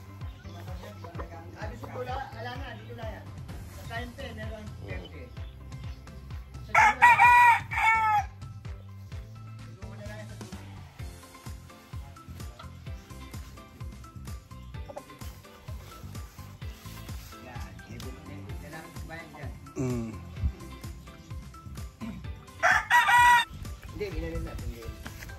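Backyard roosters on a small Filipino farm crow twice, loud bursts well apart, over steady clucking and rural ambience while people converse nearby.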